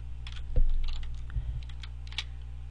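Password keystrokes tapped on a computer keyboard during a version-control session, a short run of light clicks over a low steady hum, with no talk.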